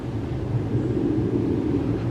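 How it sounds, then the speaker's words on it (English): Airplane flying over local woods, a steady low broadband drone heard at a distance, even and continuous with no other sounds standing out. "Oh no, that's a plane."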